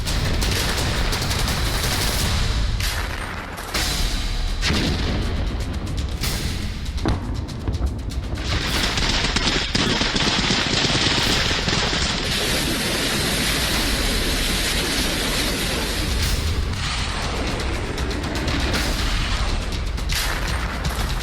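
Gunfire rattles through Russia-Ukraine war footage in dense, loud bursts of automatic fire and booming blasts, with short pauses early on, then continuous volleys and a sustained high hiss.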